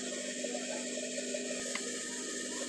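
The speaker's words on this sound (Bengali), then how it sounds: "আমি এই নিয়মে আরেকটি হ্যাম সেলাই করে নিচ্ছি" Sewing machine stitching a hem on boy's pants, a steady mechanical whirr with faint rhythmic ticking running continuously at an even level.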